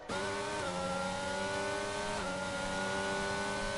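Formula 1 race cars in a racing video game: a steady, loud high-pitched engine whine with layered harmonics, with brief pitch dips around gear shifts as the cars hold near full throttle.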